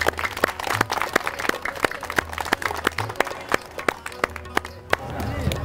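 Audience applause and clapping at a street circus performance in Shahr-e Naw park in Kabul, with sharp claps scattered among the crowd and someone talking over them.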